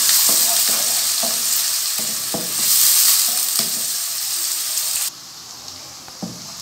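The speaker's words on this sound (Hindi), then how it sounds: "प्याज को हमने लाइट गोल्डन करना है" Onions frying toward light golden in a pan for beans keema, loud close sizzling with repeated spatula stirs and scrapes; the hiss drops off sharply near the end.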